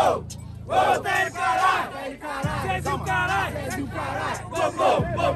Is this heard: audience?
yes